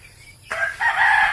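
A rooster crows once, loud and close, a strained rising call that holds and then trails off, standing alone over a quiet background.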